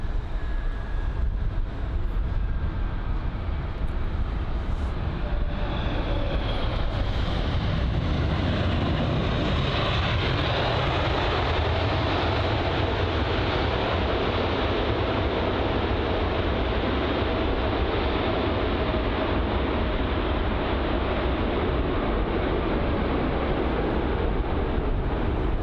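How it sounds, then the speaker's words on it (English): A British Airways Boeing 787-9 Dreamliner arriving at London Heathrow, its engines a loud, sustained roar that builds and swells midway, then holds as a broad rumbling wash with no voices. "This is the Boeing 787 Dreamliner. I think that's the 9 Dreamliner actually, and obviously operated by British Airways."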